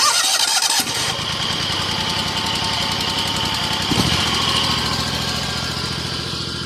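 A Scag zero-turn lawn mower engine cranks and catches, then settles into a steady, loud running drone with a slight bump in revs partway through, close by with no talking.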